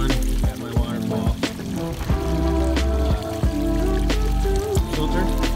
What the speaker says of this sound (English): Got my waterfall